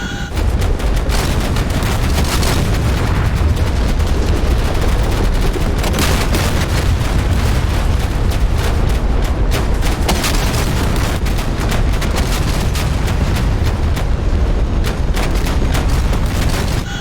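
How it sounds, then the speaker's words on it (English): Rifle and machine gun fire in the combat game DCS, in a 2006 Afghanistan Operation Medusa battle reenactment, roars as a dense, loud, continuous barrage of overlapping shots and booms with no let-up throughout. "We're going to have to land under fire from the mortar, on the green smoke, under rifle fire and machine gun fire."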